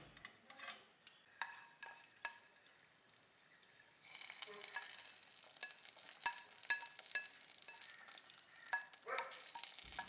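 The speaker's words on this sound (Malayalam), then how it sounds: "എന്നിട്ടൊരു മീഡിയം ഫ്ലെയിമിലിട്ടിട്ട് ഇതൊന്ന് റോസ്റ്റ് ചെയ്തെടുക്കുക" Cashew nuts roasting in ghee over a medium flame for vermicelli kheer, a soft sizzle under a run of sharp spoon-against-pan stirring taps, the frying hiss swelling and staying steady through the second half.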